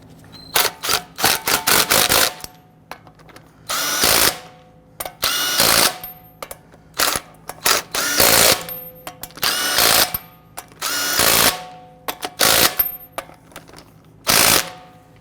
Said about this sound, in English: once we get all of these started, we'll snug them all down.